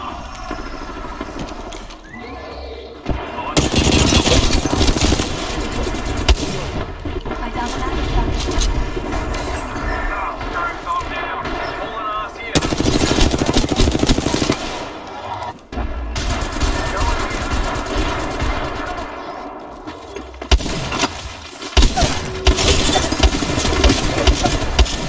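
Gunfire bursts in the battle royale Apex Legends, loud and dense, with sustained automatic fire and impacts over a steady mechanical drone, interrupted by brief lulls, while players talk throughout.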